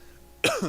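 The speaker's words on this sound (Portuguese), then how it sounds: "desculpa a tosse, irmãos" A single sharp cough from a pastor during a Sunday church service, close and brief after a quiet moment, with a second smaller burst trailing right behind.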